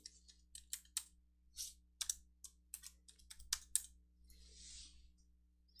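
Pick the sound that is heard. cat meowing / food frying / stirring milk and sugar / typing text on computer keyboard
typing text on computer keyboard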